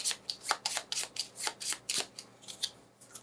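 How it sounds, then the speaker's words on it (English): Playing cards being shuffled for the Small Islands board game, a quick run of crisp riffling bursts, close and fairly quiet, with no talking over them. "The AI needs to shuffle."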